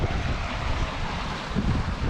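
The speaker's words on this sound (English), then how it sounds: "Sometimes before a big wave comes in, the whole level of the water drops." Waves surge and wash against a rocky Scottish coastline, a steady roar of churning surf mixed with gusting wind noise on the microphone, continuous and fairly loud, with a slight swell near the end.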